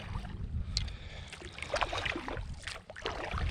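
Paddles dip and stroke through the water beside a canoe out on open water, with wind gusting across the microphone and no voices.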